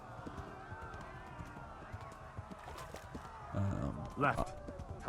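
Hooves of a horse galloping in Kingdom Come: Deliverance, a quick rhythmic clip-clop under steady game noise, joined by voices and shouting.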